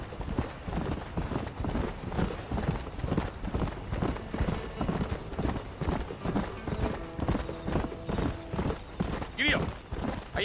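Rhythmic clip-clop of horse hooves trotting in Red Dead Redemption, a loud, steady gait that keeps going under men's conversation.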